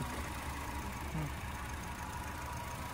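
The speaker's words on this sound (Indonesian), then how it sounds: "Suara mesin juga bersih." A 2005 Honda City GD8 with a 1.5 VTEC engine and automatic transmission idles steadily, a smooth, even low hum with a faint rhythmic knock, heard close and unbroken for a few seconds.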